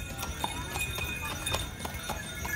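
Horse hooves clip-clop in a steady, even rhythm as a horse-drawn carriage moves along, fairly close and continuous, with no talking.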